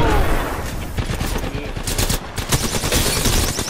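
Rapid automatic gunfire from the Apex Legends battle royale game, dense bursts of shots fired close up in a fight on stairs, loud and continuous with sharp cracks throughout.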